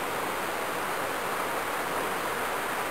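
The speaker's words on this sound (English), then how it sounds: "You could probably hear the creek in the background." Steady broadband rushing water, a continuous even hiss like a creek flowing nearby, with no voices or other distinct sounds.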